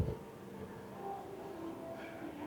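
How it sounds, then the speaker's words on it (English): A Disneyland parking-lot tram rolls past, a low, steady rumble of wheels and motor that stays fairly faint and even, with a soft tonal whine rising near the end. "I love the tram."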